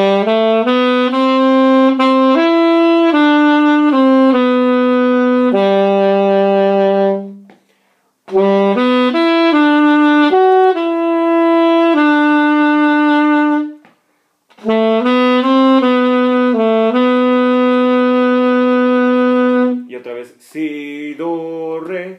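Alto saxophone plays the first verse of a norteño song, a solo melody of sustained and stepping notes in three phrases separated by short breaths.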